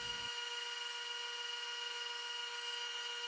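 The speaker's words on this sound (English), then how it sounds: "I'll be using a bandsaw for part of it since I have one." A bandsaw runs through plywood with a steady high-pitched whine, loud and close, holding a constant tone throughout with no voices.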